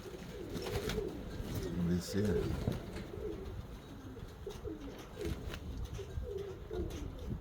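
Several pigeons in a dovecote in spring keep up a low, rolling coo in overlapping bursts close by, while someone speaks briefly over them.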